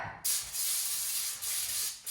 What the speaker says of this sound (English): Back to our trusty cooking spray. We're gonna hit it with a spray.